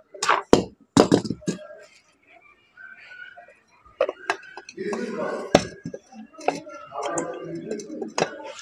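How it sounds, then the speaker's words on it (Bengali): Metal parts clink and clatter as a 16 kg demolition hammer machine is taken apart, with the piston gearbox and head section being separated. The knocks come in sharp bursts mixed with someone talking. "পিস্টনের গিয়ার বক্সটা আলাদা করে দিচ্ছি, এটা আলাদা করে রেখে দিচ্ছি মাথাকার সাইডটা।"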